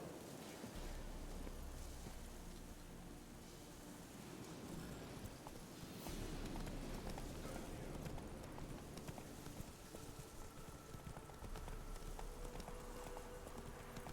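Horse hooves clip-clop at a steady gallop over a constant noisy rumble in The Witcher 3: Wild Hunt, with no voices.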